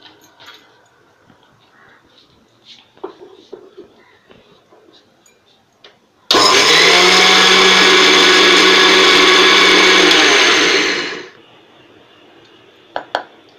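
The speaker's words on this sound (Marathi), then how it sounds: "आणि मिक्सरला फिरवून घ्यायचं" A mixer grinder whirs loudly for about five seconds, grinding dry-roasted black niger seeds with a pinch of salt, then winds down; quiet kitchen clatter comes before and after.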